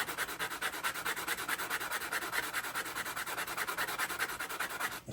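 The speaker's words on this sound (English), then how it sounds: "So I just got a fine sanding block here" A fine 150-grit sanding block rubbed over the cut edge of a coin ring, producing quick, steady back-and-forth scratchy strokes, close and even in rhythm, with no talking.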